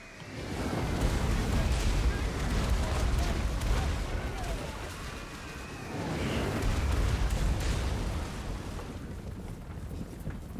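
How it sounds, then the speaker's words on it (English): Sunmaker artillery in Total War: Warhammer, fired during a 2v2 multiplayer battle at Helms Deep, booming in heavy rumbling bursts over constant loud battle noise and wind-like roar. "I'm just kind of repositioning my Sunmaker a little bit, and he should be firing soon."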